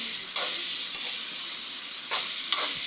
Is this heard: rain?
no